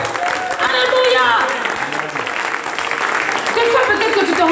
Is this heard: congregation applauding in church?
yes